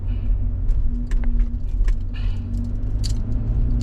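A 2018 Toyota Kluger with a 3.5-litre V6 on a brake-testing lap, its low engine and road rumble running steadily with a few light interior rattles and clicks above it.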